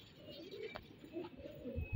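Soft pigeon cooing, a few low throaty coos close by, with a faint thump near the end.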